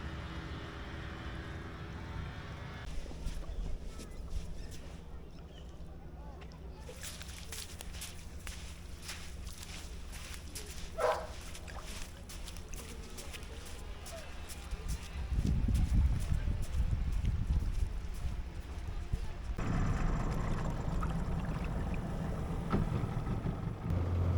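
Steady low engine rumble of a ferry boat running, with water sloshing and a louder surge of motor noise partway through; no talking.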